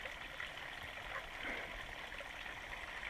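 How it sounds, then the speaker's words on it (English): A pretty little creek trickling over rocks along a mountain trail, a steady soft wash of flowing water, faint and continuous with no voices. "That is a real pretty little creek."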